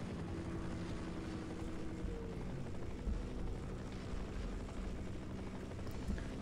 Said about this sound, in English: I'm ready to kill the stupid helicopter